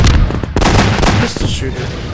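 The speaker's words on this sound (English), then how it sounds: "Pistol shooter." Pistol gunshots ring out in a video game, a quick burst of loud, close, sharp cracks packed into about two seconds amid clattering game noise.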